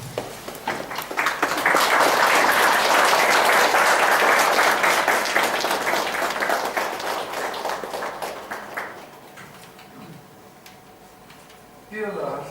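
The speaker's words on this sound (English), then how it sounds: "may all of us please stand up and applaud" An audience stands and applauds at a lecture event, a dense, loud burst of clapping that swells, holds steady for several seconds, then thins and fades, with a voice speaking near the end.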